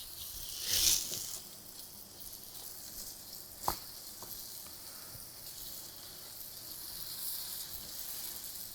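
Dahi vada lentil dumplings deep-frying in oil, a soft, steady hiss of bubbling oil heard close but faint, with a brief louder swell early on and a single sharp click midway.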